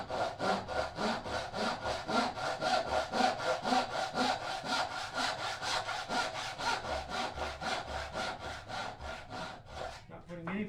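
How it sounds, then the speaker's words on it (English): A hand saw cuts through wood in a steady rhythm of close rasping strokes, each push and pull clearly separated, continuing evenly before stopping near the end. "Not putting any pressure on the saw at all, just letting the saw do the work."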